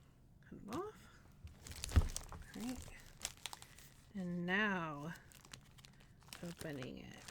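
Packaging crinkles and tears as a pineapple rum cake is unwrapped, with scattered rustles, a sharp tap, and a longer crackling stretch, while a person speaks quietly in between.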